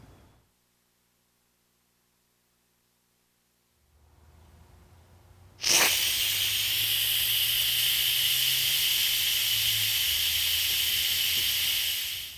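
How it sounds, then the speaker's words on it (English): An Instant Pot quick release after pressure cooking habanero hot sauce: a loud, sudden hiss of venting steam bursts out and then holds steady for about six seconds, following a quiet lead-in. "we've done the quick release to get the steam out"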